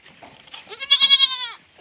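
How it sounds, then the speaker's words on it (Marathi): A single goat gives a clear, close bleat, rising and wavering for about a second, after being let out to graze in a cotton field. "शेळ्या बघा बाहेर सोडलेल्या आहेत आपल्या कापसात बघा कसं खायला"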